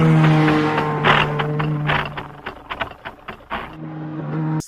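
A person vocally imitates a car engine, a loud, close, droning hum that rises and sputters into choppy revving bursts before settling back into a steady drone.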